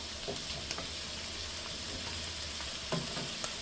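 Two colours of capsicum frying in a pan for spicy fried rice, a quiet, even sizzle with a few soft crackles and light stirring scrapes, no voices.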